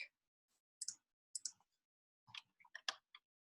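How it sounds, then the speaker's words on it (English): Sparse computer keyboard keystrokes tap in small bursts with pauses between, quiet and close in an otherwise silent room. "I'll type this here real quick."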